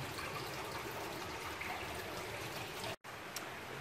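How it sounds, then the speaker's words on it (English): A river pours out of a cave on Vancouver Island in a steady, dense rushing wash of water, constant and fairly close, with a brief dropout near the end. "You can see the river flowing out of the cave here."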